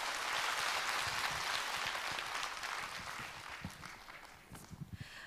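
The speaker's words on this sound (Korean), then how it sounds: "다시 한번 뜨거운 박수 부탁드리겠습니다" Dense applause from a concert audience after a folk performance, loud and sustained at first, then thinning into a few scattered claps.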